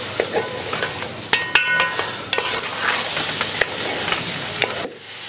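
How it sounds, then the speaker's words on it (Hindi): Black pepper being stir-fried for an oil-free Assam-style chicken curry, with a steady sizzle and scraping spoon strokes against the pan, plus a few sharp clinks near and close. "इसे अच्छे से भून लेंगे"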